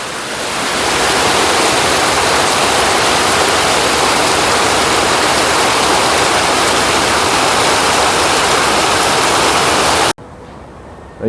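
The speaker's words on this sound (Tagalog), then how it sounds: "So ayan po, makikita nyo ulan." Steady, heavy rain falls on a vegetable garden planted with eggplant and sponge gourd, a dense unbroken hiss that stops abruptly near the end.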